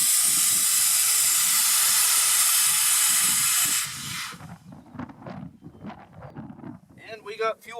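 An air compressor blowing air into a gas tank to push out bad fuel, a loud steady rushing hiss that cuts off partway, leaving gurgling bursts and a person speaking.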